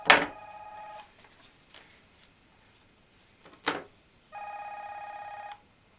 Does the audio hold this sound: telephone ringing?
yes